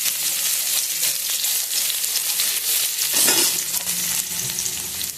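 Garlic hits hot oil in a pan and fries with a loud, dense, steady sizzle and some stirring scrapes, close up and with no talking.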